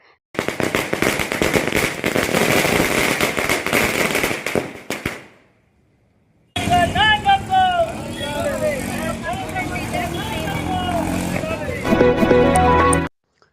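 Firecrackers burst at a street celebration of a Delhi election win, with sweets being shared: several seconds of dense, loud, rapid crackling, a brief silence, then more popping mixed with crowd voices and cheering.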